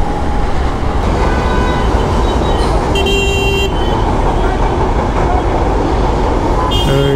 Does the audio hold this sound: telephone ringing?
no